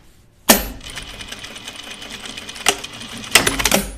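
A sewing machine stitches a dress pocket, a loud close mechanical whir of the needle running steadily with sharp clunks at the start and near the end as it stops and restarts.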